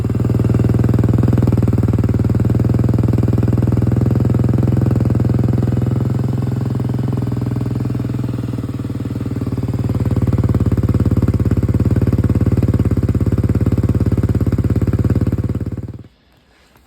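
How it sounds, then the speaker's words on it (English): A 2023 Kawasaki KLX300R dirt bike fitted with an EJK tuner idles steadily outdoors, a loud continuous thrumming engine note that dips briefly midway, swells again, then cuts off abruptly near the end. "So now I'm going to move this bike outside and start it up"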